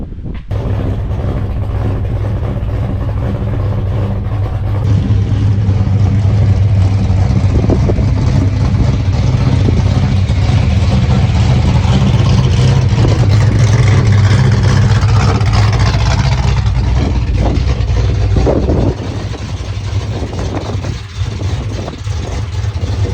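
The V8 engine of a Ford XB GS 351 Fairmont hardtop runs steadily and close, with a deep, even drone and slight rises in revs. It drops to a lower idle toward the end.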